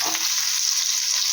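Kebabs fry slowly in a pan over low heat, giving a loud, steady, close hiss of oil without a break.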